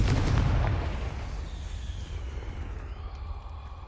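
A Confringo explosion spell goes off in the Hogwarts video game, a loud close blast with a deep rumbling boom that decays slowly over a few seconds, with no talking.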